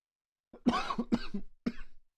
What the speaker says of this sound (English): Got a bit of a cough going on.